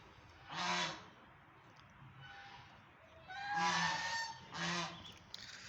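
Several loud, nasal honks from ducks on a dairy farm in Punjab in short bursts, with quieter calls between them, fairly close against a steady background hiss.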